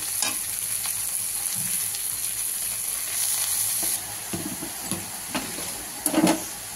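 Cabbage and chopped green chillies sizzling in a pan with cooked spices, a steady frying hiss broken by a few stirring scrapes and bumps.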